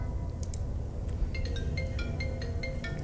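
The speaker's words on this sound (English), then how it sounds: "Sorry, phone ringing." Phone ringing during a gaming session, a quiet repeating electronic ring tone in short evenly spaced pulses over a low background hum.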